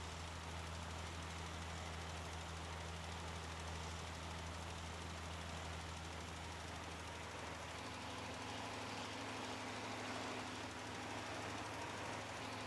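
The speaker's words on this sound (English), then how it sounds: "Oh yeah, this tractor seems to pull it quite nicely." A tractor engine drones steadily while pulling a fertilizer spreader in Farming Simulator 19, a low constant hum with a slight pitch shift midway, fairly quiet and with no talking.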